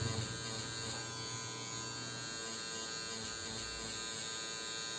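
A tattoo machine with an RS needle buzzes steadily while shading a religious realism tattoo, a continuous close electric hum with no pauses.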